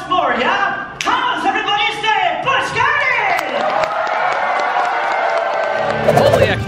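Theater audience at a Busch Gardens Christmas show cheering, whooping and clapping loudly throughout, with shouting voices mixed into the crowd noise and a burst of claps near the end.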